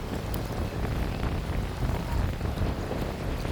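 Strong wind gusts across Telaga Sarangan lake on an overcast, cold day after rain, a loud continuous rushing roar buffeting the microphone, rising and falling slightly with no voices.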